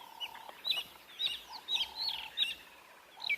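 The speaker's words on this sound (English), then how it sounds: "listen to all of those calls" A bird on safari calls loudly and harshly while mobbing eagles, giving a rapid series of sharp, repeated squawks and chirps at close range with no voices.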